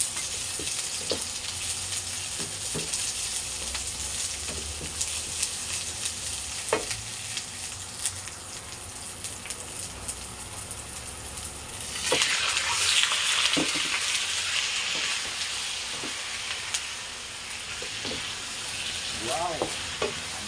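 Onions sizzling and frying in a pan, a continuous crackling hiss that swells louder midway as they are stirred, with occasional utensil clicks and no talking.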